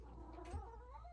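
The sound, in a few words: kitten meowing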